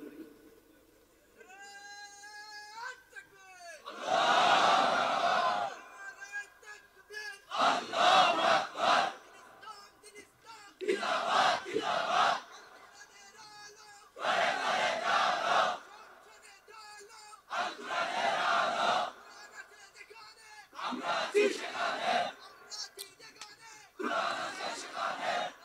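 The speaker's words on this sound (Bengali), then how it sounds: "দেখি একজনের স্লোগান দেন তো দেখি।" Crowd at a Bangladeshi religious gathering chanting a slogan in unison, loud massed call-and-response bursts repeating every few seconds, with a single voice leading between them.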